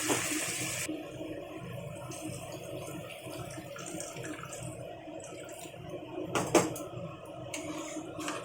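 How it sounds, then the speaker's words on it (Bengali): Water pours into a pan of sautéed potatoes for a dal bora curry, a steady close splash and hiss running for several seconds with a brief louder burst near the end. "দেখুন, আমি এখন দিয়ে দেবো জল।"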